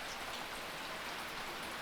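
Heavy rain pours down in a dense, steady, unbroken hiss that fills the space evenly, with no voices over it.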